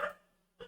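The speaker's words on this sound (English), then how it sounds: "there are some annoying dogs." A few dogs bark in short bursts, one loud yelp at the start and another about half a second later, fairly close with quiet between them.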